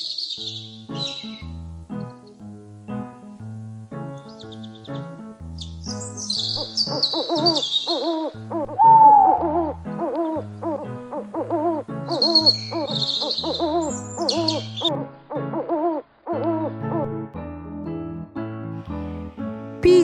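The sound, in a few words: owl hooting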